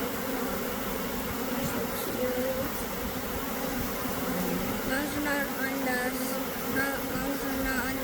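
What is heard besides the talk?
honeybee swarm buzzing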